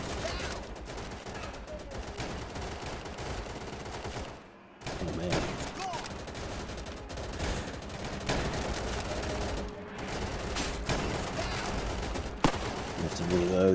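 In the WWII shooter game Easy Red 2, rifle and machine-gun fire rattles continuously with dense overlapping shots and bursts. Two brief pauses break the barrage.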